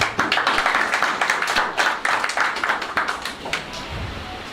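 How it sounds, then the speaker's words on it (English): Audience applause at a certificate ceremony, heard as a stretch of dense, close clapping that thins out toward the end, with a faint voice underneath. "Let's give her another round of applause."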